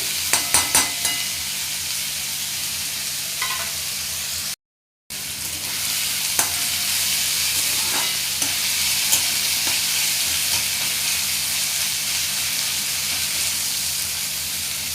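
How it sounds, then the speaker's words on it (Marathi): Tomatoes sauté and get stirred in a hot pan for egg bhurji, a steady close sizzling hiss broken by scraping spatula strokes and small clicks, with a brief dropout partway through. "व्यवस्थित परतून घेऊया टोमॅटो चांगले मऊ होईपर्यंत आपल्याला भाजून घ्यायचे आहे"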